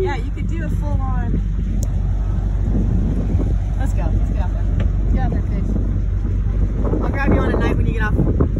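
A motorboat drives across open water, its engine droning steadily under heavy wind buffeting the microphone, with voices talking at times.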